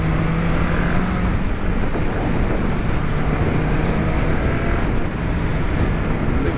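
MV Agusta Brutale 1090 RR naked motorcycle cruising in sixth gear, a steady, smooth engine drone mixed with heavy wind rush, constant and loud throughout with no talking.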